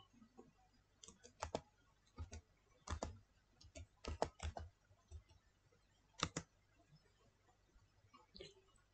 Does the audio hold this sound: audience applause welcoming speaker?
no